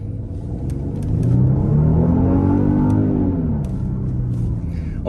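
A 2021 Genesis GV80 SUV with its 3.5 V6 engine drives along, a smooth, steady engine hum and rising whir that swells through the middle and holds at moderate loudness, heard from the cabin without talk.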